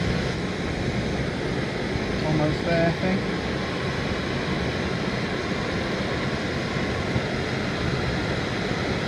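An MSR Pocket Rocket 2 camp stove burns to boil water, giving a loud, continuous roaring hiss that stays steady from start to finish while a person briefly speaks over it.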